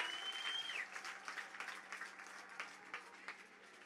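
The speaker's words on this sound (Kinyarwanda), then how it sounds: "twongera tumukomera amashyi" A church audience applauds a preacher, a burst of clapping that starts strong and gradually thins into scattered claps, heard alone without speech.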